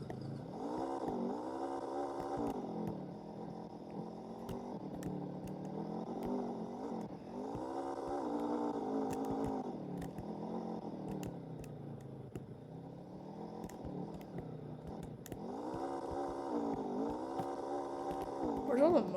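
An ATV engine in the game American Plains Mudding drones steadily and rises and falls in pitch in repeated revving cycles while riding, a continuous moderate hum throughout.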